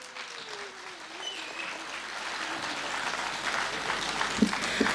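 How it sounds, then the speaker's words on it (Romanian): A crowd at an outdoor town anniversary celebration applauds in a soft, continuous wash of clapping, somewhat distant, with a brass band and voices faintly in the background. "să-i aplaudăm!"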